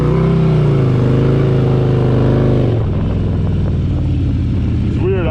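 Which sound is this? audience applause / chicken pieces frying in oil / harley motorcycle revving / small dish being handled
harley motorcycle revving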